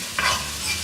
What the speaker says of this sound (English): add in your garlic. Dump all that in. You're going to mix it and cook it for another minute.